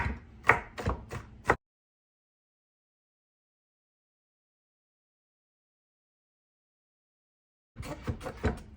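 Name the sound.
chopping garlic with a knife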